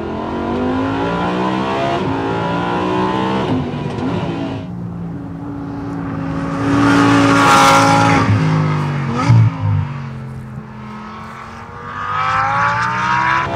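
An R8 FR race car lapping a circuit, its engine revving up and down through gear changes, loud and close from onboard, with rising and falling pitch and brief tire noise.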